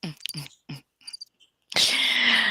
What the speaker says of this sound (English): And the crickets will chirp.